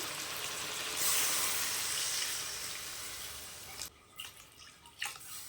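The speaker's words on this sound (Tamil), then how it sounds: "தண்ணி சேர்த்துக்கலாம்" Water poured into a pan of mutton curry, a steady rushing pour that fades out partway through, followed by a few light clinks and sizzles.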